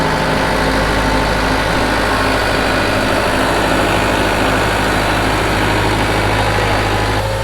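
Steady low rumble of a four-wheeler ATV engine idling on a ranch during a downed-cow rescue, continuous and fairly loud throughout with no talk.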